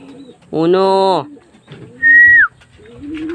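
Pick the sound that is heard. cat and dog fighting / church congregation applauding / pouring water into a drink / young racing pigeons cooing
young racing pigeons cooing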